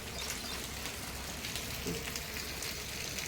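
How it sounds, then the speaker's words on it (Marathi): Steady rain falls over fields and roads, an even, constant patter and hiss that stays unchanged throughout, moderately loud with no other sounds standing out. "एक सलग असा पाऊस चालू आहे बघा सकाळपासून"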